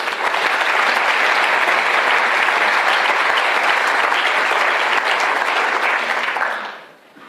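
A large lecture audience claps loudly and steadily for several seconds before the applause fades away.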